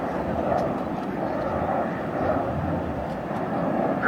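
A White Knight 2 carrier aircraft, Virgin Mothership Eve, flying at an air show, its engines a steady distant roar that stays even throughout.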